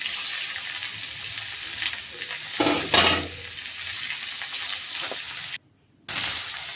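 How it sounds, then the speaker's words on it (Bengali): Grated bottle gourd added to hot oil with browned onion and green chili, a steady close sizzle with a louder burst of frying and stirring midway, then a brief drop to near silence. "তখন আমি দিয়ে দিলাম এই যে লাউ যে কুড়িয়ে নিয়েছিলাম সেগুলো দিয়ে দিলাম"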